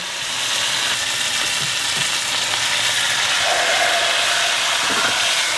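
Fish frying in oil in a covered pan gives off a steady, even sizzle that carries on without a break, with no talking.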